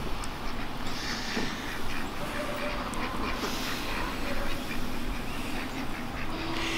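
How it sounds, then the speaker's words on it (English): Several ducks quacking outdoors on a hillside on a cold, rainy late-December day, with a few scattered nasal calls at moderate distance over a soft background hiss. "The ducks are enjoying themselves outside today."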